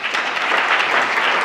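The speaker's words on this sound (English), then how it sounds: "Also a round of applause, please." Audience applause at a science award ceremony, a thick, even roar of many hands clapping at once, loud and continuous throughout the short stretch.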